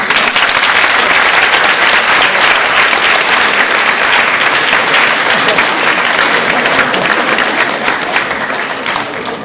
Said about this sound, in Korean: 그런 의미에서 박수 한번 하시죠.